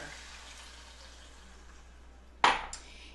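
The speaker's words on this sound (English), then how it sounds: "we're just going to add a half a cup of water." Half a cup of water pours into a cooking pan, a short splashing sizzle rising suddenly after quiet kitchen hiss, then trailing off, close and clear.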